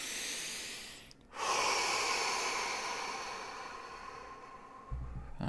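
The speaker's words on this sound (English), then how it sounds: "we'll take a deep breath in" A long, deep breath drawn in slowly, then a brief pause and a sustained, airy exhale during a guided meditation, close and soft with no talking.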